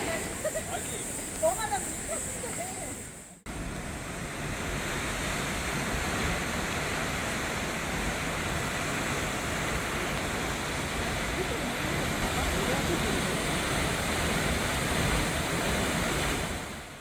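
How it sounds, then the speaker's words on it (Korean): The Jaein waterfall, swollen after recent rain, plunges tens of meters down a columnar-jointed cliff, a dense unbroken roar that takes over after a brief quieter opening and holds steady to the end. "수십 미터 높이의 폭우가 우렁차게 떨어집니다"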